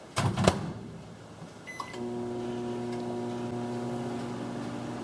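A repaired microwave oven hums steadily once it starts running after a click and a short beep, its low electrical drone holding even and close with no talking.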